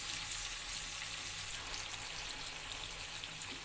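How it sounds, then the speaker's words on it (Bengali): Vegetables for a mashkalai dal go into a hot pan, giving a steady, dense hiss like rain that stays even and fairly soft throughout. "এখন সম্পূর্ণ সবজিটা ঢেলে দিব।"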